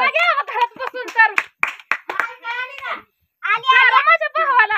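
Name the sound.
people clapping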